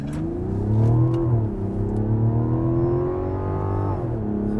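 A 2024 Mazda CX-90 with a high-output turbocharged inline six accelerates on a California drive, a smooth engine drone rising in pitch through gear changes, heard from inside the cabin without talk.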